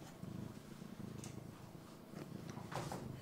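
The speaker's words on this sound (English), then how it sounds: "You can hear her purr." A baby monkey purring softly while playing with a cat, a faint steady low rumble close by with a few light rustles.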